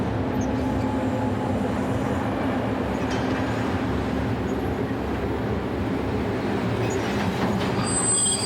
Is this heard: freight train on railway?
yes